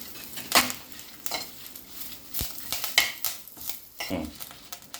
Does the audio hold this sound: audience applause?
no